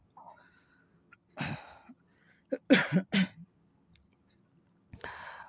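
Several sharp coughs indoors, a single one, then a quick double burst, and another after a pause, with quiet stretches between.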